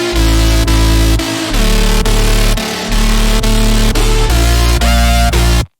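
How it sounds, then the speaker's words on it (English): Heavy drum and bass bass built from four layers in FL Studio, loud and continuous with a deep sub, pulsing in a steady rhythmic pattern with short gaps and punchy repeated hits. "I've actually used a combination of 4 layers for the bass, and they sound a bit like this"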